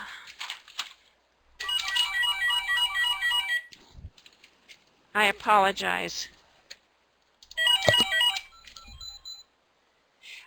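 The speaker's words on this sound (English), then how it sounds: "I'm sorry about the phone." A phone rings in bursts of trilling electronic tones during an online presentation, with pauses between rings and a person briefly speaking in the gaps.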